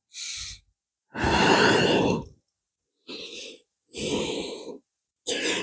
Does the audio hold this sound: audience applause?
no